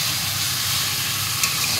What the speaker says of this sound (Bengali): এইবার ম্যারিনেট করা মাংসটা দিয়ে দিই।